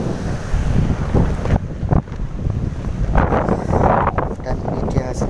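Strong wind sweeps a sandy beach during surf fishing, roaring and buffeting the microphone continuously and loudly, with gusts surging and easing throughout.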